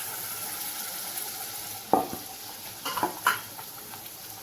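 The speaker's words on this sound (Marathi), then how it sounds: "हे बघा मसाला चांगला असा परतून घ्यायचा." Ground masala paste frying in oil for a village-style mutton rassa makes a soft, steady sizzle, joined midway by a few clinking spoon strokes against the pan.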